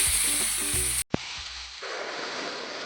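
Potatoes and yardlong beans going into hot oil, a brief tonal clatter, a sudden cutoff, then a sharp hit followed by a steady broad frying sizzle that settles in close and moderately loud.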